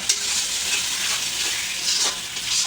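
Spice paste with dried chili powder sautéing in a pan for a village-style bagar fish curry, a steady bright sizzle with stirring scrapes running throughout, close and alone.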